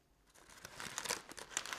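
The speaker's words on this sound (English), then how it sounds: "I'm going to unwrap it." Paper wrapping crinkling and tearing as it is pulled off a smoked beef shin cooked on a Weber Smokey Mountain, a series of close, fairly soft crackles building over a couple of seconds.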